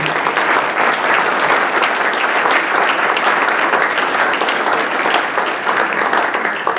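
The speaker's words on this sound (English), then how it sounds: "can we have one more round of applause for the singers for this evening?" A jazz festival audience gives the singers a sustained round of applause. Many hands clap loudly and evenly, forming a thick, unbroken wash of sound with no speech over it.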